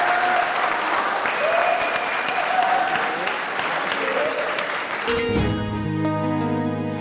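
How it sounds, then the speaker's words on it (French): Sustained applause from a large crowd, dense and steady, with music coming in toward the end. "Applaudissements."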